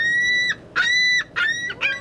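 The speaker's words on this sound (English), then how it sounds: "Seagulls swarm." Seagulls swarm and call near Rudy's, an Oswego seafood stand: four loud, close, drawn-out squealing cries with short gaps between them, over faint outdoor background noise and no talk.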